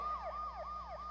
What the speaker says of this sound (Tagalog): Ayan na, may wangwang.